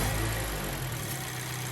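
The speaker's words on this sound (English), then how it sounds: "we're gonna go ahead and just mash the gas quick." A car engine with a cylinder misfire roars as the gas pedal is mashed, then settles back toward a lower, rougher drone in one loud, close burst.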